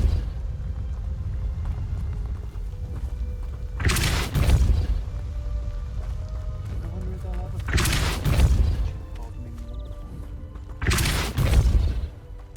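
Depulso spell in Hogwarts Legacy, three separate forceful whooshing blasts spaced a few seconds apart, each a loud broadband burst with a booming low end, over a steady ambient background.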